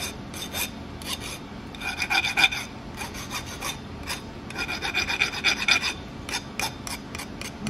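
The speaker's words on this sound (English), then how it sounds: "Grab a file. It really will only take a few strokes" Hand file chamfering the edge of a part turned on a Tormach 8L lathe, a series of quiet rasping strokes in a steady back-and-forth rhythm, close up with no talking.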